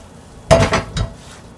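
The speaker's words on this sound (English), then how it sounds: "I'm going to mix this in," Cooked fava beans being stirred into a pot, a brief cluster of metallic clinks and scrapes from a spoon against the pot, close and fairly loud in a quiet kitchen.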